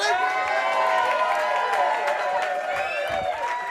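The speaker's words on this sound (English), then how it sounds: "please keep the applause going" Stand-up comedy audience applauding and cheering for a comedian, a dense, steady wash of clapping with whoops and shouts that holds at full strength throughout without pause.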